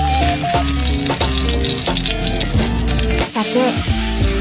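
Yellowtail fillets pan-frying, a steady loud sizzle that runs continuously with brief stirring and clattering in the pan, no voices over it.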